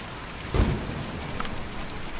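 A rainstorm with thunder in the video game Kentucky Route Zero, a steady heavy hiss of rain with one low, close thunder thump early on and no voices.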